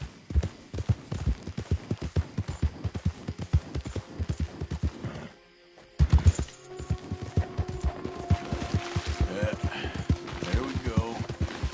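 A horse galloping in Red Dead Redemption 2, its hooves pounding in a steady, fast rhythm that is close and loud. Brief pause midway before the gallop resumes, with a rider's voice speaking over it.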